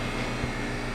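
A freeze dryer running steadily while drying milk, giving a loud, even mechanical hum and whir with a low drone, close by and alone with no talk.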